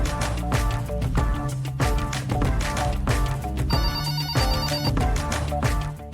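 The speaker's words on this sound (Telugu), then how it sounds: "ఫోన్ వస్తుంది." A telephone rings with a melodic ringtone, a steady, fairly loud repeating pattern of tones and beats that continues throughout, with no one speaking.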